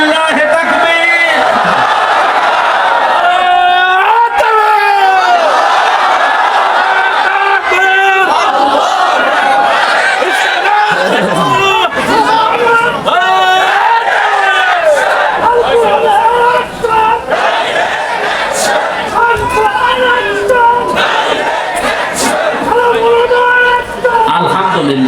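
At a religious sermon gathering, a large crowd shouts takbir in loud, repeated chorus bursts, rising and falling with chanting voices throughout.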